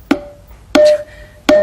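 A Simmons electronic drum tom pad set to program 14 struck three times at a steady pace, each hit a sharp attack with a ringing, pitched electronic tail, loud and close with no voices.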